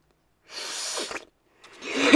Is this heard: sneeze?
yes